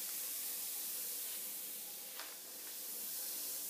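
A bath bomb fizzes in a filled bath, giving a faint, continuous soft hiss with a few small splashy ticks, steady throughout and heard from a short distance with no voices.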